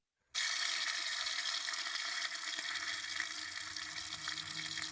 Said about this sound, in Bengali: এখানে হচ্ছে মাছটাকে তো আমি ভাজি করতেছি, আর এখানে একটা খুব সুন্দর একটা সাউন্ড আসে।